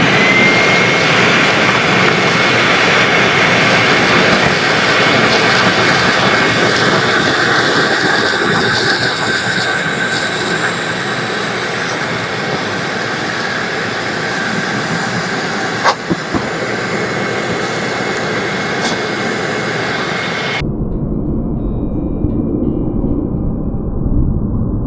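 A Ridgid shop vacuum runs loud and steady with a broad whooshing roar and high whine that hold for about twenty seconds, then cut off abruptly, leaving a low winding-down hum.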